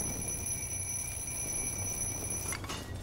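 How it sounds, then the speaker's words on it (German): A burning alarm clock in the video game Little Inferno rings continuously as a steady, piercing electronic tone for about two and a half seconds, then cuts off into a brief crackle, no talk. "Und der Wecker."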